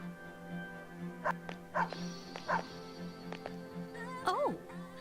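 A dog in the game Persona 3 FES gives several short yips and barks, then a rising-falling whimper, set over a steady musical background.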